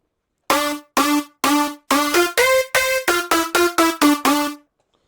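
A dry, raw future bounce synth lead with all effects removed plays a choppy melody of separate notes, first spaced then faster, loud and unaccompanied with sharp cutoffs.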